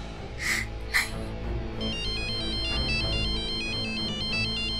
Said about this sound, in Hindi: भवन का फोन बज रहा है